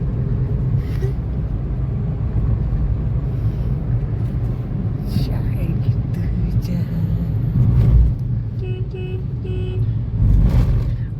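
Road traffic rumbles in a steady low drone, with passing vehicles and engine noise swelling around the middle and near the end, while voices talk over it.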